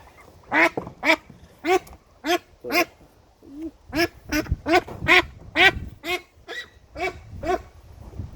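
Aylesbury ducklings on a farm quack in a steady run of short, bright calls, about a dozen separate cries spaced close together and heard nearby with no talking.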